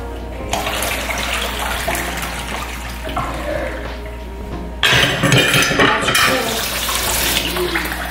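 Water runs steadily from a kitchen tap as the boiling water is poured off a pot of boiled sausages and replaced, a continuous broad rush that grows louder and splashier partway through, with faint clinks.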